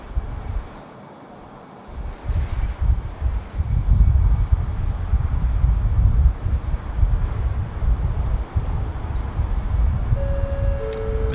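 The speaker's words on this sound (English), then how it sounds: "the wind is really smacking it about today" Strong gusty wind at Sydney Airport buffeting the microphone, a loud low rumbling roar that surges in after a quieter opening and keeps churning unevenly, no voices.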